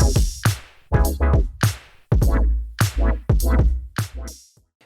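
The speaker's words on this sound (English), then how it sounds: "how to make funky metal chord synths" Funky metal chord synth stabs in a pop wah style, loud and close, playing a rhythmic pattern of short punchy chords with wah-like sweeps and gaps between hits, alone without any voice.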